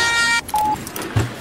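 Telephone keypad dialing tones ring out as a quick burst of layered beeps, then a single steady tone and a soft low thump, with no voices present.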